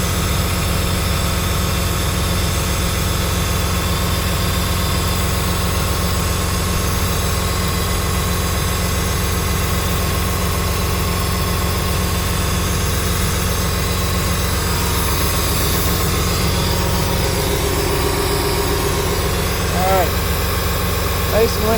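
A cannibalized ex-military John Deere 850J dozer engine runs at a steady idle with a deep, constant diesel rumble and vibration, loud and unchanging throughout, with a brief higher mechanical whine near the end.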